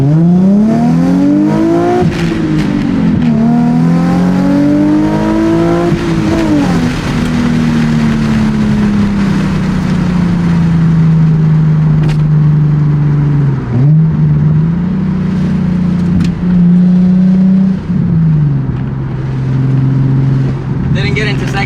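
Nissan 350Z/370Z with a Tomei or ISR aftermarket exhaust, loud and close, revving up and down through repeated throttle blips and a gear change, a continuous droning engine note with rising and falling pitch.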